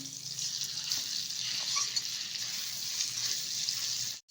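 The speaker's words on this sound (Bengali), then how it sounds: "এটা আমি নেড়ে চেড়ে নেব ঘিয়ের সাথে" Jackfruit seed paste fries in ghee for a sandesh sweet, giving a steady, close hiss of sizzling that runs almost unbroken and cuts off abruptly at the end.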